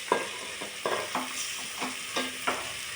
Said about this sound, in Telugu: నాటుకోడి వేసుకుంటున్నాం.